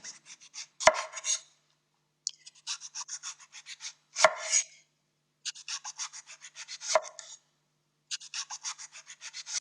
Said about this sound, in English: And then we're just going to slice the eggplant pretty thinly.